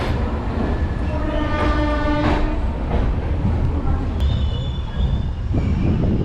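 The Chennai to Calicut train pulls out of Erode Junction with a steady rumble of carriages, sustained squealing wheels and a faint horn-like tone over the din.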